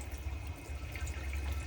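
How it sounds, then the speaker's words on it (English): Steady broadband wash of water running from the cold and hot taps of a Mclouis 432 motorhome, a constant close gush with low rumble and no pauses, heard alone. "Lift up the tap on the cold side and make sure that you've got good pressure coming through"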